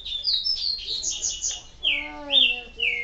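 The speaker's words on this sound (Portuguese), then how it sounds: "vendo como esses passarinhos não param de cantar" Small birds sing in Resident Evil 4, bright repeated chirps and trilling whistles in quick succession, fairly loud and alone with no talk over them.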